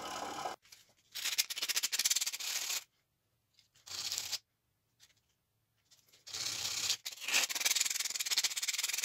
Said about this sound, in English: So now I'm just going to sand this to get a slightly better finish because it's all sharp and a little bit rough.